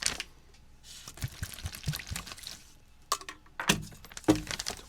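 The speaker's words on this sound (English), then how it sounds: "I'm going to get a decent splash of water." Water splashing and trickling into a self-heating ration bag from a Chinese PLA Type 20 B meal, with crinkly plastic crackles and uneven pouring bursts close by.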